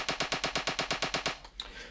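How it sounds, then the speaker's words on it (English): Snare drum roll sample on an Akai Force, about a dozen evenly spaced rapid hits that stop abruptly, dry and moderately quiet. "create a snare roll that we can manipulate"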